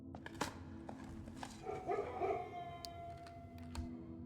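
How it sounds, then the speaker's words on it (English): A dog howls faintly in the video game Blue Prince, a brief, wavering call rising in the middle of the stretch amid soft game tones and occasional clicks. "The dog's doing their job."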